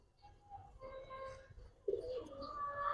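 Male Giribaz high flyer pigeons coo softly in low, rolling calls against faint background noise, with the cooing growing a little louder toward the end.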